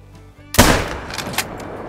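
A single sharp, loud rifle shot cracks in the hunting game The Hunter: Call of the Wild, followed by a short rolling echo and a couple of faint later reports.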